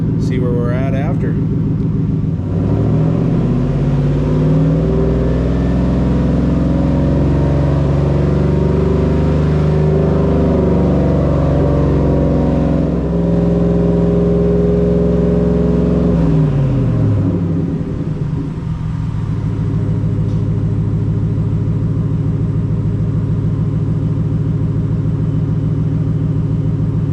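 A 2025 Ford F150 fitted with an SPD Y-pipe and Speed Engineering cat-back exhaust idles and holds steady around 2,500 rpm, a loud, deep continuous drone that dips and settles near the end, with voices talking over it.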